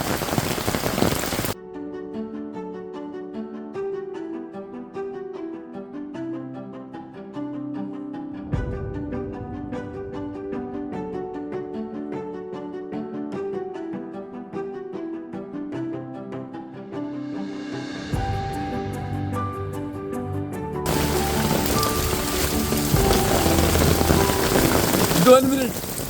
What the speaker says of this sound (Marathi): पाऊस येऊ लागला. छत्रीतून पाणी आलं मध्ये भिजलो मी.